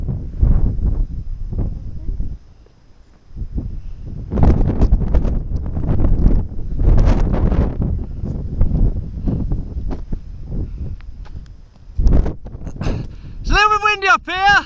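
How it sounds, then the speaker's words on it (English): Gusty wind buffets the microphone on a seaside hilltop in the UK, coming in loud rumbling bursts with a brief lull, while a person talks over it and a short electronic chime sounds near the end. "It's a little bit windy up here."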